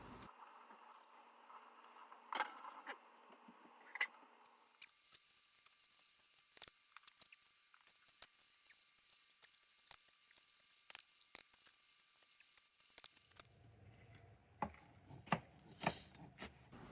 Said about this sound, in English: it is time to chop them up into small uniform bits